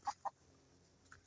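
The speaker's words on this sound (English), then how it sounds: "The chickens came to help too." Chickens clucking nearby, two quick clucks close together then a fainter one a moment later, quiet over a low hum.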